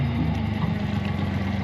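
A Stabicraft 1450 Explorer aluminium boat's outboard motor, just primed with the fuel bulb after running out of fuel, runs with a steady, close low-pitched engine drone throughout, no voices.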